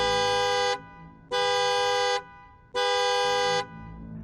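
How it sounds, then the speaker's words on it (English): A car horn from the Midnight Motorist minigame in FNAF 6 honks three times, each a long, loud, steady electronic blare separated by short gaps. "right after that, we hear this car sound"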